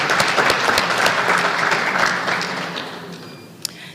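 An audience at a Detroit ribbon-cutting ceremony claps, loud and dense at first with sharp individual claps, then gradually thinning and fading toward the end.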